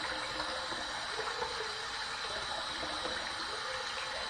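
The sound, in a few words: hot tap water running over razor in sink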